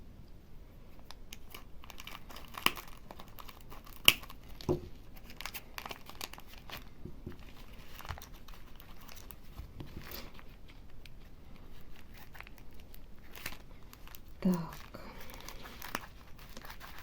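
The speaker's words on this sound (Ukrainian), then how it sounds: "коли маленькі пакетики загорнуті, то не завжди бачиш, звідки їх гарно розпакувати" Close, crinkly rustling of small plastic packets of buttons being handled and torn open, in intermittent bursts with a few sharp crackles; a voice briefly speaks.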